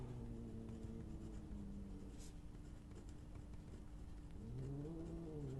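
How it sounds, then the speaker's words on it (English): A pen writes in a paper planner, a soft steady scratching that runs continuously close by at low level, with a faint muffled voice or hum near the end. "So I'll write that in too."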